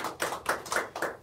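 A small audience claps to welcome a lecturer at a lunchtime talk, a few close, distinct hand claps in a loose rhythm with no voices.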